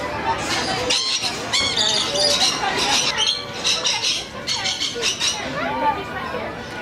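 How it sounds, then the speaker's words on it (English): Birds chattering and squawking at a nectar-feeding exhibit at the Kansas City Zoo, with busy overlapping chirps and clinks close by, under a crowd's steady background chatter. "we're gonna go collect some nectar to feed these birds"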